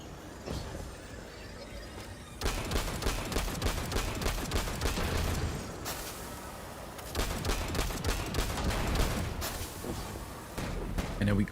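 Rapid bursts of gunfire from shooting enemies in the video game Destiny, dense and sustained across most of the stretch with brief lulls, loud and close, with a voice talking over parts of it.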